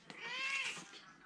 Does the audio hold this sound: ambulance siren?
no